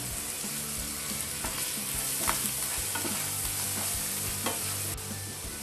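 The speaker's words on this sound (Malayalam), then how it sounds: "ഈ എണ്ണയിലേക്ക് ആദ്യമേ നമുക്ക് ഇഞ്ചിയും വെളുത്തുള്ളിയും കൂടെ ഇട്ട് കൊടുക്കാം" Ginger and garlic fry in oil left over from frying fish for a Kerala-style karimeen mappas gravy, giving a continuous hiss with repeated spatula scrapes and knocks against the pan.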